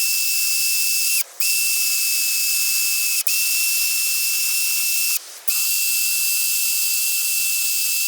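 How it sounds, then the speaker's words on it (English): A drill spins a wire wheel against carbon-caked valves from a Ford 302 cylinder head, producing a loud, steady high whine close by. The tool cuts out briefly three times, and each pause is followed by a quick spin-up. "I got a wire wheel right here to help clean the valves, take off some of that carbon off of there, and I have my drill right here"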